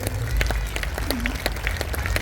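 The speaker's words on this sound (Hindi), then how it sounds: "एक बार ताली बजा के बताइए।" An audience claps at a BJP workers' conference political rally, a dense and continuous patter of many hands at close range that stays steady throughout.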